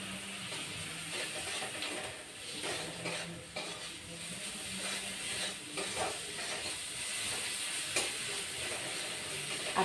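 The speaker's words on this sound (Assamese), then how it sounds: "আদা নহৰু পেষ্টখিনি দি অকণমান পিঁয়াজৰ লগতে ভাজি ল'লোঁ" Onions with ginger-garlic paste frying in oil for an Assamese dish: a steady close sizzle with intermittent stirring scrapes and clicks, continuous throughout with no talk.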